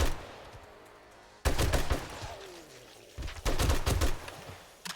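Video game gunfire during a mining trip rings out in loud broadband bursts: a sustained volley from about 1.5 to 3.2 seconds, then another burst near 3.5 to 4.3 seconds, after a quieter opening.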